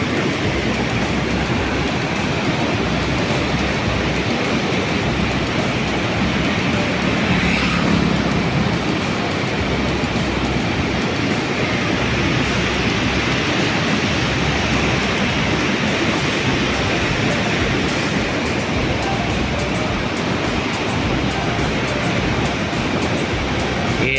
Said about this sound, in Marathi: पाणी जे उसळतं आहे ते रांजण खाळग्यामुळे उसळते